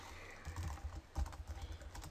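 Keys clatter in quick irregular bursts as code is typed on a computer keyboard, close and moderately loud with a few heavier strikes, no voices present.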